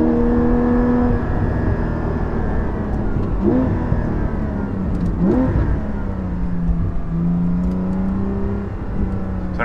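A Porsche 718 GT4 with a Soul Performance rear exhaust section revs and drops through gear shifts, its engine note rising and falling steadily and heard from inside the car, with no talking.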